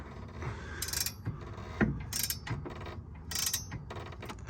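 Close, quiet clicking and ratcheting as a camber adjustment bolt is turned on the rear lower arm of a BMW E36, with several short bursts of metallic clicks and a knock.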